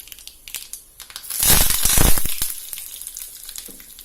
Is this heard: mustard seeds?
yes